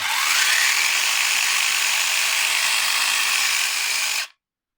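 An ELTOS cordless saw running after the trigger is pressed, heard as a loud, steady, high-pitched motor whine up close for about four seconds before it cuts off abruptly.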